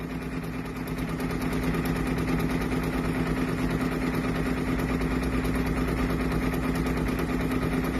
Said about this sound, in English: It's the Baby Lock Capella, and this is the new single needle free arm machine from Baby Lock.